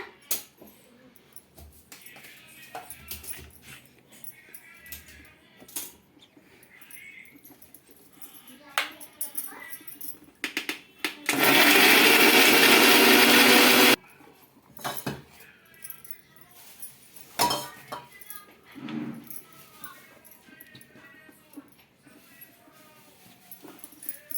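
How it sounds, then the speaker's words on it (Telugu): A mixie grinder whirs loudly for about two and a half seconds while blending cut bottle gourd pieces; scattered kitchen clinks and handling noises come before and after. "కట్ చేసి పెట్టుకున్న సొరకాయ ముక్కలు అయితే కొద్ది కొద్దిగా వేసి గ్రైండ్ చేసుకోవాలండి"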